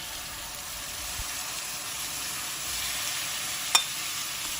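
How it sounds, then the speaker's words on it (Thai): Pork liver stir-fried in a pan with chili and garlic gives a steady, soft sizzle and hiss throughout, with one brief sharper clack of the utensil near the end and no voices. "จากนั้นก็ทำการผัดต่อค่ะ"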